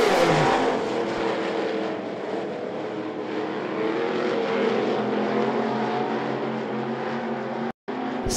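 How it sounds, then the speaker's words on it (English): Race cars roaring around the I-75 Raceway oval, a steady loud engine drone with layered motor tones sustained throughout, briefly cutting out near the end. "Smoke coming from underneath the 88 car of Morgan."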